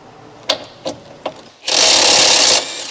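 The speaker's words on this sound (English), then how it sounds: "Remove the through bolt." A power tool spins a through bolt out of the rear lower control arm bushing on a Ford Escape, three sharp clicks of the socket settling followed by a loud steady whir lasting about a second.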